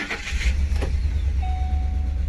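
A 2007 Lincoln Navigator's 5.4 engine idles roughly, a steady low rumble heard up close, with a brief whine running underneath and no voices.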